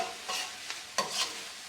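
Scallions, thyme and crab stirred in a pan over low heat, a soft sizzle under a few quick scraping strokes, quiet and close.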